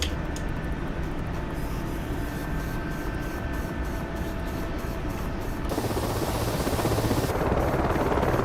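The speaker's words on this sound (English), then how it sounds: "Flying helicopters is an adventure." A helicopter flies in a video game, giving a loud, continuous rotor and engine roar with a steady rhythmic chop that swells slightly near the end.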